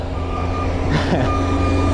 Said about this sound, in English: I was trying to draft that garbage truck